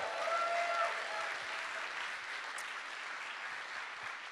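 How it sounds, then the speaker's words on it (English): A large crowd at a 1 Million Cups community gathering in North Dakota breaks into sustained applause, a soft, dense wash of clapping. A short whistle-like tone rises early, and the clapping fades slightly toward the end. "Let's give you all a big round of applause."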